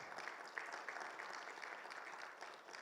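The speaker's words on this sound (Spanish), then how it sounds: "un fuerte aplauso al Señor" A church congregation at a Bible seminar gives applause to the Lord, a soft, distant patter of many hands clapping that continues evenly for a few seconds.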